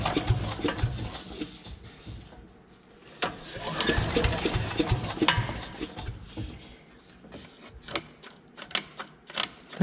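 A small leaf vacuum engine being pulled to start, with repeated rough cranking bursts and sputtering that catches briefly, close and fairly loud, followed by scattered mechanical clatter.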